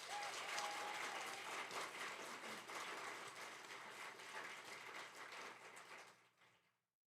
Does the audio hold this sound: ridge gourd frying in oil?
no